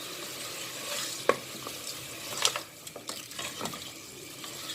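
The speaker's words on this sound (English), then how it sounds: "And now I'm going to stir all this." Mutton freshly added to a pot for an Arabic maqluba is stirred. A soft, wet frying hiss sounds under a few sharp spoon knocks and scraping bursts, and the sounds are moderately close.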